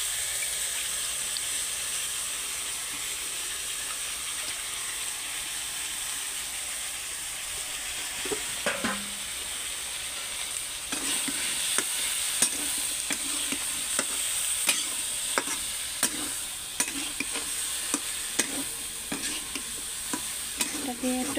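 Taro pieces fry in a pan with a soft, steady sizzle. Midway through, a spoon starts stirring them, and repeated sharp scraping strokes come in a loose rhythm, close and clear, with no talking.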